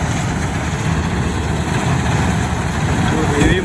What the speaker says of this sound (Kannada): ಹೆವಿ ಮಷೀನ್ ಹೆಂಗೆ ವರ್ಕ್ ಆಗುತ್ತೆ